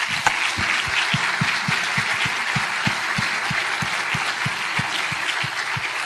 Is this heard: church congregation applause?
yes